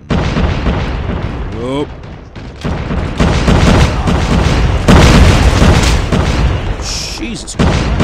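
Explosions and blasts in Call of Duty Mobile, a zombie mode match, booming loudly through most of the stretch with overlapping bursts, while a player talks and reacts over the game sound.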